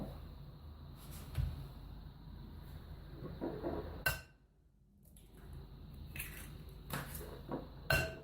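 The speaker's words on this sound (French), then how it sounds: "dans un saladier, vous cassez les œufs" Eggs are cracked into a salad bowl in a quiet kitchen, giving a few faint taps and sharp clinks against the bowl, with soft squishy spills and a short silent gap between them.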